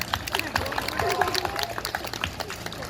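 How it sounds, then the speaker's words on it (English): A crowd claps along at a pig race at an outdoor shopping venue in Los Angeles, scattered, moderately loud clapping with an announcer talking over it. "We're gonna clap a whole lot louder."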